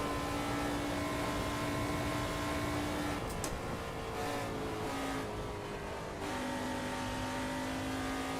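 An LMP3 race car engine in an online racing simulation game holds a loud, steady high-pitched drone, dipping briefly as the car shifts and then climbing again, with no voices.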